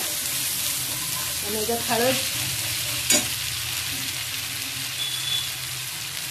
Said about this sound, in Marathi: हा वाटलेला मसाला घालणार आहे। याच्यातच आपण कढीपत्ता घातलेला आहे, जरा परतून घ्यायचा